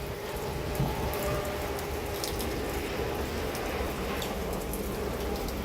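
Steady rain from a severe thunderstorm in Stockbridge, Henry County, Georgia falls and patters on surfaces, a constant even hiss with occasional nearby drips, no voices.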